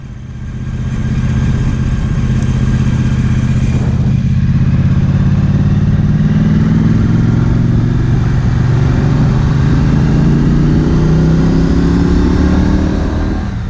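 Triumph Street Twin motorcycle engine accelerating steadily in third gear, a loud continuous low rumble with rising pitch and heavy wind noise.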